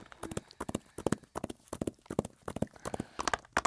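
Rapid clip-clop of horse hooves from Roblox Wild Horse Island, a fast running rhythm of repeated sharp strikes mixed with speech-like sounds throughout.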